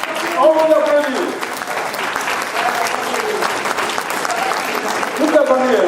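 A crowd gives a family sustained applause as they are asked to stand, loud and dense throughout, with a voice speaking over the clapping at the start and again near the end.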